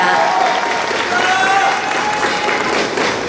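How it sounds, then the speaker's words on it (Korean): An audience at a year-end party chapter appointment ceremony in Hongseong, Korea, breaks into sustained, dense applause, loud and even throughout, with many hands clapping together in a continuous wash. "박수로 함께 해주시기 바랍니다."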